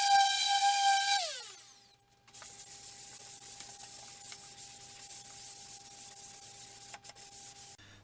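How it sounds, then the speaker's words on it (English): Wooden cabinet side panels being sanded smooth for paint, a continuous rubbing scrape running for several seconds after a short tonal ringing sound and a brief gap, with no talk. "we're now ready to start sanding them a bit smoother"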